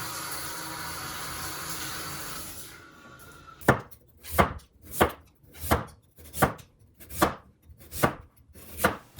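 A knife chops peeled potatoes into long thin shreds on a board, sounding as about eight evenly spaced, crisp, close knocks after a quiet start.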